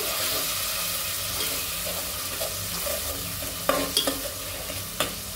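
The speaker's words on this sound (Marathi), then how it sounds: "चांगलं परतून घ्यायचं" A ground paste of coconut, ginger, garlic, coriander and cumin for mutton biryani sautés in a pan, giving a steady close sizzle broken by a few sharp spatula scrapes and taps near the end, with no voices.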